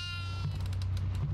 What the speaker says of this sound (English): Oh, I hear goat.